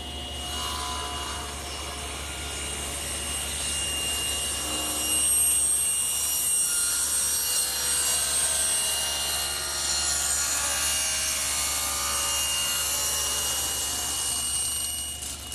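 A table saw runs steadily while a jig set against the rip fence guides a wooden bedside-table leg through a taper cut, giving a continuous high whine with a rising, rasping bite as the blade cuts the wood.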